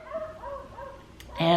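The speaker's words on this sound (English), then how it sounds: "the neighbor's dog's barking out there" A neighbor's beagle barks outdoors in the distance, a few faint repeated yips and barks under a nearby voice, followed by a louder close sound at the end.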